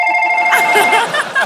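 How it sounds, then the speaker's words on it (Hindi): A mobile phone rings with a steady electronic tone, then laughter and chatter from a studio audience break in over the ringing at a comedy show. "मेरा फोन है। अच्छा अभी बजा है वो लोग।"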